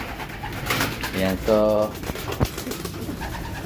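Racing pigeons coo in a loft, with several soft, throaty bursts rising over a low background while someone talks nearby.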